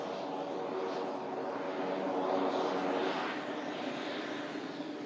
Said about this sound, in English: Aircraft coming in from Oban.